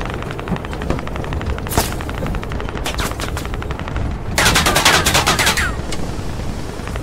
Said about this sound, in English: They're just firing at me from the... wherever.